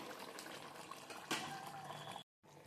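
Katla fish curry simmering on a low flame in a home kitchen, giving a steady soft bubbling and sizzling wash. A brief stir or clink comes midway, then a short silent gap near the end.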